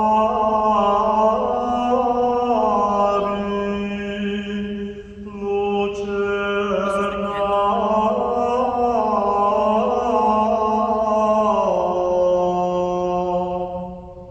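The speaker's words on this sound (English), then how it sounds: "This is what monophonic chant sounds like." Monks sing monophonic Gregorian chant as a single unaccompanied melodic line, heard from a played recording, with voices sustained and gliding continuously for about fourteen seconds.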